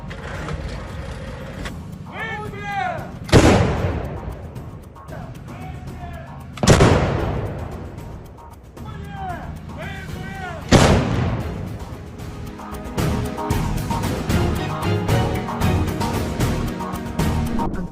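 Self-propelled artillery firing 203 mm shells, three loud booming blasts spaced several seconds apart over a rumbling engine, with faint voices between shots and heavy vehicle noise building at the end.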